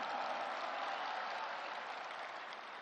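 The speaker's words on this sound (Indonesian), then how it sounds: "Kita berikan tepuk tangan untuk itu." Audience applause at a political party rally, a steady, dense wash of clapping from a large crowd that holds evenly for the whole stretch and eases only slightly toward the end.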